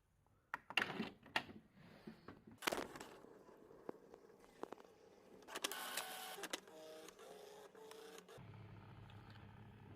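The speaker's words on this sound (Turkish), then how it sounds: "Yazıcımızı bir şey taktık. Çalıştırdık." An inkjet printer whirs and clicks through its startup, with bursts of mechanical clatter and motor hums that settle into a steady low drone.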